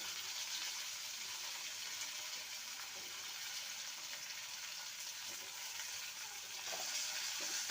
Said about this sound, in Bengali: এবার সজনে ডাটাটাকে আমি আরও দু মিনিট আলুর সাথে ভেজে নেব